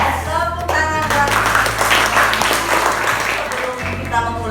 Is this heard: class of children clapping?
yes